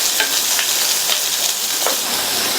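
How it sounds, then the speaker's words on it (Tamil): Onion, garlic, chillies, curry leaves and cumin sauté in a hot pan, giving a dense continuous sizzle with a few soft stirring scrapes, close and loud, with no talking. "1/4 கப் அளவுக்கு பொடியா கட் பண்ண வெங்காயம், எல்லாத்தையும் வதக்கி விட்டுக்கலாம்."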